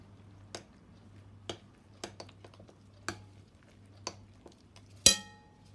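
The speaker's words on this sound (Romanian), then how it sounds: "Amestecăm cu lingura." A spoon stirs keto bread dough in a bowl, giving sparse, irregular clinks and taps against the side about once a second, close and clear over a low steady hum, ending on one sharper ringing knock.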